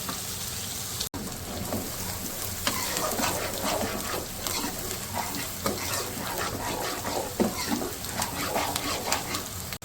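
Chopped onions fry in a pan for chana masala gravy, a steady close sizzle with stirring scrapes scattered through it and no voices.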